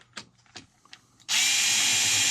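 A few light clicks and taps on an Arrma Felony RC car's crash-damaged front end give way to a cordless power drill whirring loudly and steadily as it backs out screws, close up.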